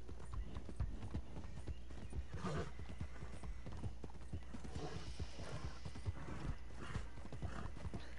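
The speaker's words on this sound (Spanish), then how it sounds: "¿Necesita comer el caballo?" Horse hooves clip-clop in a rapid galloping rhythm in a PS4 video game, with a whinny breaking through, moderately loud over a continuous game background.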